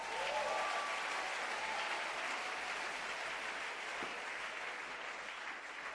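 A church congregation applauds at a French-speaking worship service, dense and steady clapping from a large crowd that carries on for several seconds.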